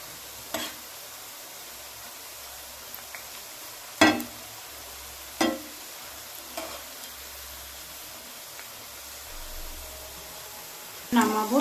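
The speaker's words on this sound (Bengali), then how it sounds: "একদম লাল লাল করে ভেজে নেব তাহলে ভিতরে একদম কাঁচা থাকবে না" Mushroom pakora fries in hot oil with a steady, even sizzle, broken by a few sharp clinks and stirring knocks of a utensil against the pan.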